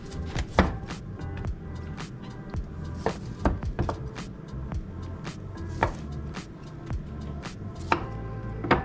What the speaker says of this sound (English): Okay, let's cut this cauliflower up.